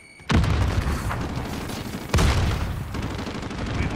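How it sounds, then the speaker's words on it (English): Grenade explosion and gunfire in Call of Duty: Modern Warfare multiplayer: two heavy booming blasts, the second about two seconds after the first, over continuous rattling automatic fire. "Grenade out."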